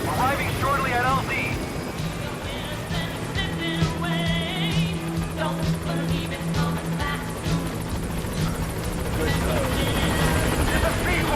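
A helicopter in the video game Metal Gear Solid V: The Phantom Pain arrives at a landing zone, its steady rotor drone heard throughout, with radio voices and game sounds over it.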